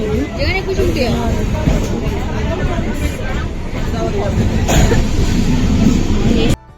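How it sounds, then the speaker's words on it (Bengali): A suburban passenger train pulls into a station on a rainy day, its loud rumbling and rattling carriages continuous for several seconds under a busy platform crowd's chatter, then cutting off abruptly near the end. "ওয়েট করতে করতে চলে এলো ট্রেন"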